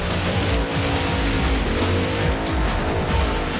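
Drag racing cars at The Strip in Las Vegas, a loud continuous engine roar with tire squeal and skidding, close and steady throughout with no talk.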